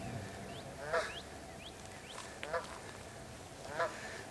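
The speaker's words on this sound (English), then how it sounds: "they are Canada geese." Canada geese honk three times at a distance, short hoarse calls spaced roughly a second or more apart over a steady outdoor background hiss.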